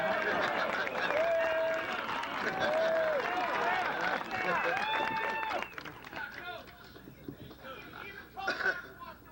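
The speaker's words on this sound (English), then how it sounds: "Everybody wants to applaud when you talk about Warren Spahn." An audience at a baseball event applauds in a dense, sustained wash of clapping mixed with cheers and whistles, gradually thinning and fading toward the end.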